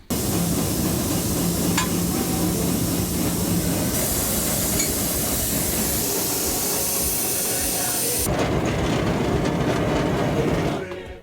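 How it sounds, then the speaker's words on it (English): A cargo train on Kenya's meter gauge railway rumbles and hisses loudly and continuously nearby, with a harsh, steamy roar that shifts in tone partway through. "This cargo train here is about to make a long journey from Nairobi to Tororo"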